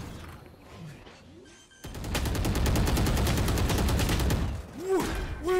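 Rapid automatic gunfire in the tactical shooter Valorant bursts in loudly after a quiet moment, a dense sustained volley lasting several seconds before tapering, with a player's voice talking at the start and end.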